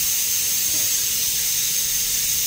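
A pressure cooker boiling potatoes on a home stove lets off steam, a steady close hiss with a thin high whistle that holds without a break for the whole stretch, with no one talking.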